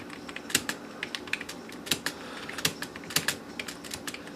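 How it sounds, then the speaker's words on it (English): Someone types on an Apple iMac G3 keyboard, producing irregular, crisp clicking keystrokes with occasional louder strikes, close and alone against quiet room noise. "either something's not right with it or I'm not typing on it correctly"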